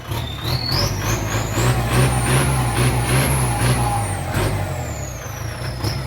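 A loud, close truck engine rumbles steadily while the hydraulic dozer-blade lift whines, climbing in pitch, holding, then falling away.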